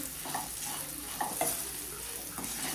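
Okra and potato curry with garlic chili chutney stirred in a hot pan, with a constant hiss of frying beneath a few scraping spatula strokes.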